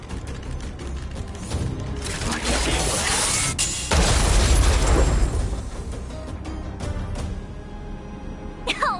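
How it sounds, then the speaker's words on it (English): A big explosion in Honkai: Star Rail wiping out a group of enemies, a loud sustained crash and rumble with debris-like bursts that swells, peaks mid-clip with a deep boom, then tapers into scattered clatters. "We wiped them all out in a single explosion!"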